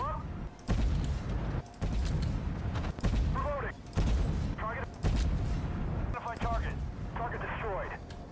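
Tank cannon fire from the Armored Warfare video game, several booming shots spaced a second or so apart under someone talking continuously, with mechanical clatter between.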